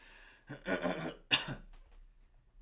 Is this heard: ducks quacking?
no